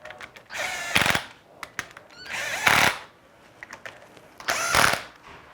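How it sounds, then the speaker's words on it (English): A wrench snugs down engine bolts on an RB26 DETT short block with the oil pan and baffles fitted, giving three bursts of close, loud ratcheting clicks separated by short pauses. "We'll snug these down, and then we'll torque them."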